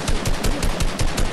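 Rapid automatic gunfire from a Fortnite match rattles out in steady repeated bursts, loud and close, with no talking over it.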